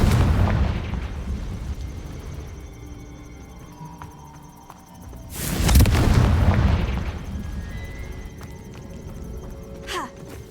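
A Confringo blasting spell explodes in the game Hogwarts Legacy, a loud, close burst of noise that swells and fades over a couple of seconds. Game ambience and sharp effects surround it, and a voice shouts the spell name beforehand.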